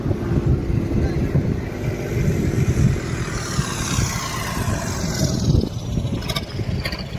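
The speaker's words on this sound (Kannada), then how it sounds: "ಇನ್ನೊಂದು ಟ್ರ್ಯಾಕ್ಟರ್ ಬಂದ್ರಿ" A tractor engine drones steadily nearby, a low, continuous rumble, with faint voices mixed in.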